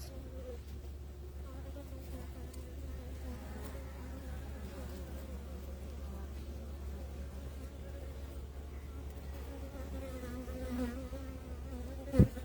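Honeybees inside a beehive, a low, continuous crowded hum with a softer buzzing layer on top, steady and fairly faint throughout, ending with a brief sharp click.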